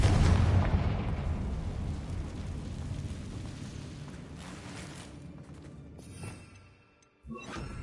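A Confringo blasting spell explodes in Hogwarts Legacy: a loud, rumbling blast that fades over several seconds, followed by a short drop to near quiet and a fresh burst of noise at the end.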